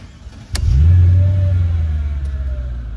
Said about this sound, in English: when I go to start the car